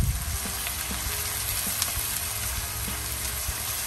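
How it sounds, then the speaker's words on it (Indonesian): Green chili spice paste stir-fries in a pan, a dense continuous sizzle with a low rumble beneath and occasional soft taps of a spatula stirring. "kita tumis terus ya bumbunya"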